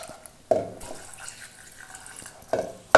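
Water poured into a pressure cooker holding green peas and vegetables with salt and turmeric, arriving in short splashing bursts separated by quiet gaps.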